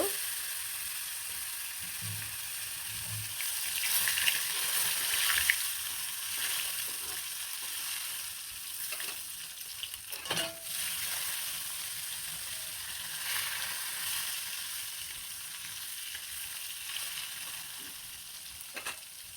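Koi fish fry in hot oil with a sustained, crackling sizzle, heard close and steady throughout, with occasional spatula knocks and stirring clatter but no speech.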